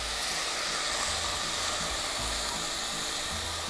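Pork belly ragout with thyme sizzling and hissing steadily in a pot as it is stirred, a dense, close frying crackle with no voices.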